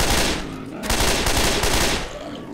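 Rapid gunfire from weapons in Left 4 Dead 2 during a Special Delivery mutation match in The Parish campaign, loud bursts of shots fired close together with brief gaps between volleys.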